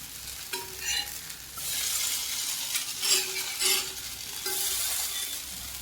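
Small dosas fry in a pan, loud sizzle swelling and fading in bursts, with light clinks and stirring sounds in between.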